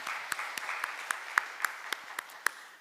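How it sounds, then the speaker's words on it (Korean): Scattered applause from a church congregation at a Sunday service, a sparse patter of individual claps with a few sharper, louder ones standing out, fairly quiet and heard alone. "우리 하나님께 삼위일체 하나님께 영광의 박수를 돌려드립니다"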